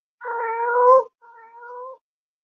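A cartoon cat meows twice, a long drawn-out yowl followed after a short gap by a softer second meow, clear and close against silence.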